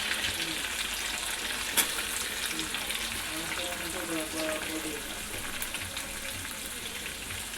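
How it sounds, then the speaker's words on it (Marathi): Chopped onion hitting hot oil with cumin in a frying pan for cabbage bhaji, a steady close sizzle with a sharp clink early on, continuous and moderately loud with no speech. "आता मी कांदा ॲड करते याच्यामध्ये"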